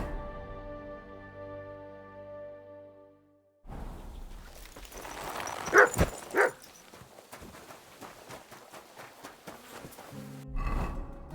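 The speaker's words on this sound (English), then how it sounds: "You silly doggy." In the video game Kingdom Come Deliverance II, a dog barks a few times, loud and close, amid footsteps and hoof-like clopping. A quiet sustained tone plays before this and the clip is otherwise calm.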